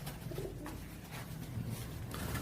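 Toofan pigeons coo softly and repeatedly, a low throaty murmur over a steady, noisy background.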